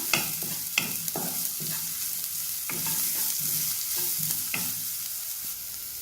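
Green chilies temper in a hot pan with salt, giving a continuous sizzle and a series of sharp spatula knocks and scrapes at irregular intervals, with nobody speaking.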